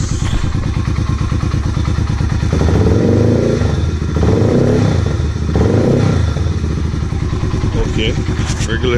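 A Yamaha TW200 motorcycle engine idles, then gets several throttle blips that rise and fall in rough surges, loud and close with a clattery mechanical undertone throughout.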